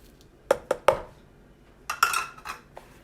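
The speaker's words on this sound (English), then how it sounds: "Okay, I am going to add my breadcrumbs." A hard spatula taps and clinks against a bowl while breadcrumbs go into a Salisbury steak mixture, with three quick knocks followed by a short burst of clattering, close and fairly loud.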